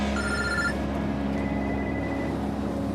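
A telephone rings inside a truck cab during a delivery of pop bottles. The bright, repeating ring sits in the first second over a steady low engine hum, and a fainter tone lingers afterward.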